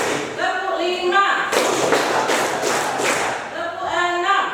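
Pupils in a classroom clap in a counted sequence, a dense burst of loud group clapping between stretches of the teacher's voice counting aloud.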